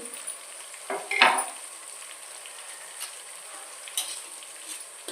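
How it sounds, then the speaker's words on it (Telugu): Tomatoes and carrots fry in a pan, giving a soft background sizzle. One louder stir or clatter comes early and a few faint scrapes follow, all close and fairly quiet. "టమాటాలు కూడా బాగా వేగిపోయాయండి. ఇప్పుడు క్యారెట్లు వేసుకున్నాము."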